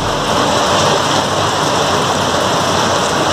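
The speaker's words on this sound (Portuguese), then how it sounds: "nesse momento está chovendo muito, com muito relâmpago, trovões" Heavy rain pours down in Vila Matilde, São Paulo, during a thunderstorm, making a dense, constant hiss that stays loud and unbroken throughout.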